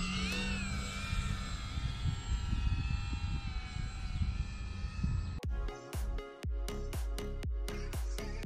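An RC airplane is chased by an FPV drone, its engine whining with a wavering pitch up close, then giving way to a rapid broken stutter of buzzing bursts.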